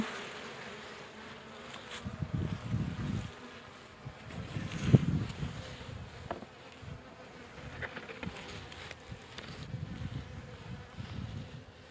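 Honeybees buzz around hive frames during a check on a weak colony, a faint, wavering hum that swells and fades with outdoor handling noise.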